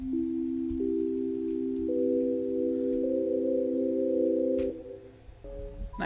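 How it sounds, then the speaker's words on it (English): A Brainstormer synth patch built from a simple sine wave with filters and reverb plays smooth, sustained tones that step upward into a chord, then shift to new notes near the end. It is clear and alone, with no voices. "just a simple sine wave, not much else. It has some filters on it and a bit of reverb,"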